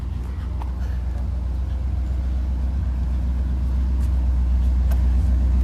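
A truck engine runs steadily with a deep, constant low rumble, fairly loud and unbroken, with no talking over it.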